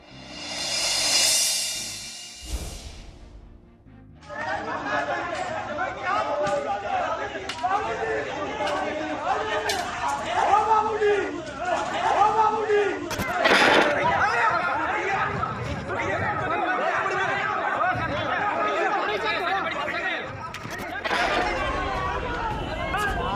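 A crowd mob clamouring and shouting around sadhus, a dense roar of many agitated voices with scattered yells and bursts that stays loud and continuous throughout.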